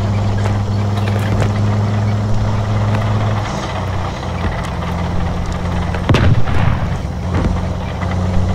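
Artillery gun firing on a Vimy Ridge battlefield in the WWI shooter Beyond The Wire, heavy booms rolling over a steady low engine-like rumble, with a loud blast near the end.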